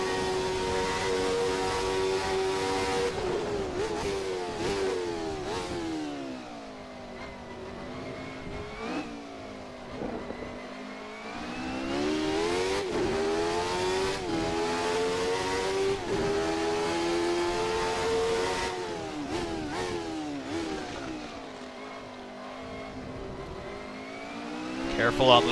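A Jordan 191 Formula 1 car in a racing video game revs loudly around Spa, climbing and dropping through repeated gear shifts. A voice talks over the engine.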